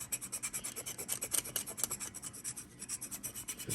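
Bark on a fig cutting being scraped to roughen it: a quiet, close, rhythmic rasping rub with quick repeated strokes and no talking.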